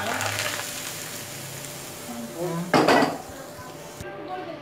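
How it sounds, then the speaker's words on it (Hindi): Hot tarka of cumin fried in oil meets a pot of white maash daal, sounding as a clatter of pan and utensil followed by a short loud burst of sizzling that quickly settles. "हमारा तड़का तैयार हो गया। अब मैं इसको दाल पे लगा दूंगी।"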